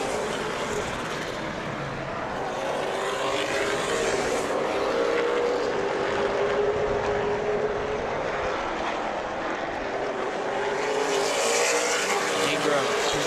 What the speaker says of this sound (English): Field sneaks their way around the quarter-mile Wenatchee Valley Super Oval